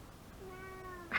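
A single cat meow with a steady, harmonic pitch, close by and fairly clear over a quiet room, ending in a brief noisy burst.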